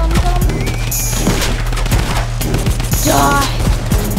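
Fortnite video game gunfire during the Mecha vs Monster event, rapid loud bursts of shots and impacts over a constant dense background of game music and effects.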